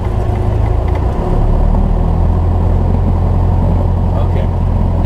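A small training airplane's engine, throttled back up to about 1,000 rpm after idling, gives a steady low droning rumble close by, with a slight rise in loudness early on and conversation over it.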